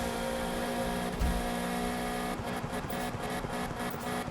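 Engine of a Golf Mk1 build in the video game Need For Speed 2015, a steady high-speed drone with tonal whine that shifts partway through as the throttle eases.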